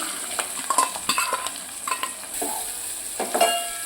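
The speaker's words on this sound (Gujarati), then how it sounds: "આપણે ડુંગળીને થોડીક વાર સાતરવાની છે." Finely chopped onion sautés in a pan of hot oil with curry leaves, a dried red chilli and a bay leaf, giving a close, steady sizzle broken by a few scraping stirs of a spoon, with no voices.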